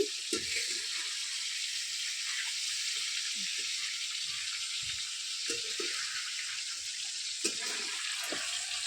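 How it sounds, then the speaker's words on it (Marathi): Fish frying in a pan at home gives a steady, bright hiss of hot oil that runs unbroken, with scattered soft low knocks and clatters beneath it and no talking. "हा मच्छी फ्राय होत आले तर"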